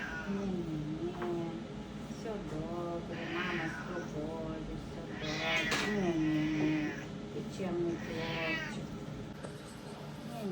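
A cat meows over and over during a grooming session, with loud, drawn-out, complaining cries. People talk nearby between and over the meows.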